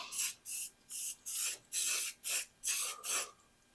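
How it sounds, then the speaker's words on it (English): Paint is sprayed onto an 80s hot rod's grille assembly in eight short, evenly spaced hissing bursts, each about a third of a second, close and fairly loud with quiet gaps between. "Spray it a little bit more."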